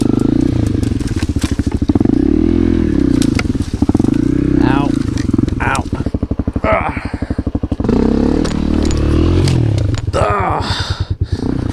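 Honda CRF250L dirt bike ridden on trails, close and loud with pulsing revs, throttle blips and gear changes, plus clattering bumps and a rider's voice whooping and talking.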